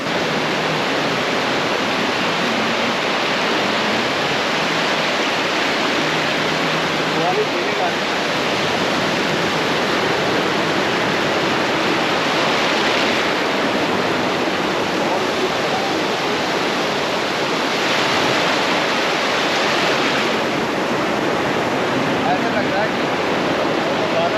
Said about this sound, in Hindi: पानी का जो लहरें हैं, जो वेव्स हैं ना, इनमें करंट ज़्यादा आई जा रहा है, फ्लो बढ़ता जा रहा है